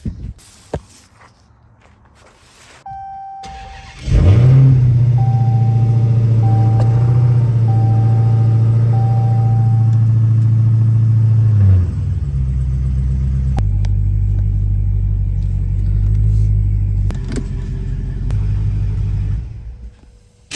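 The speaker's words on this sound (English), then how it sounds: "so we can put the Hellcat inside and put the BMW out" A Dodge Hellcat tuned to about 1000 horsepower and a BMW being shuffled around a driveway and garage: an engine fires up with a loud steady idle rumble, shifts to a deeper note, then settles and fades, with footsteps and handling noises nearby.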